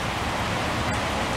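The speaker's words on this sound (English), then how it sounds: "all of a sudden I look out again and it is dark and pouring rain." Heavy rain pours outside in an even, unbroken hiss heard from indoors, steady and moderately loud with no voices.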